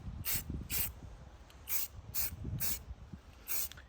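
An aerosol spray can puts light coats of paint on a gun outdoors on a slightly breezy day, giving six short hissing bursts in an uneven rhythm, close and fairly quiet.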